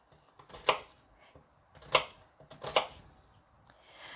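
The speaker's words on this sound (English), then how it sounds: "And then you turn it, and I'm just chopping." A knife chops onions on a cutting board in a kitchen, with three distinct sharp chops spaced about a second apart and faint lighter taps between them, close and alone.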